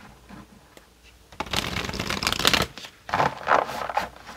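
Cards being shuffled close up: a long riffling rush, a short pause, then a second burst of quick papery flutters.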